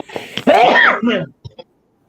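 A loud, sharp sneeze bursts out, followed by a couple of faint short sounds, with a little background noise before it.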